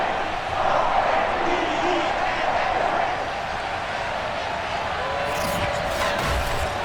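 A Baltimore stadium crowd in a Ravens versus Steelers football video game, a broad steady roar of cheering that holds evenly for about seven seconds, with a brief sharper swell near the end.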